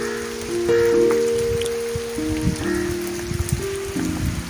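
Steady heavy rain falls on open fields, a dense continuous hiss with scattered louder drops, while a faint tonal hum runs low underneath throughout.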